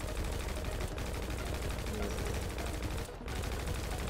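Rapid automatic gunfire rattles continuously in GTA 5 as a player fires at a helicopter, a loud, dense stream of shots with one brief break near the end.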